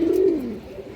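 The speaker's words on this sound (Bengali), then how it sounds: "কবুতরটা দেখেন, ডাকটা দেখেন আপনারা আগে।" A Rampuri male pigeon gives a single close, loud coo that swells and then slowly fades, heard alone without other sounds.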